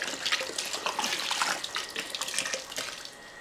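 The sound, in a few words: vinegar being poured into pickle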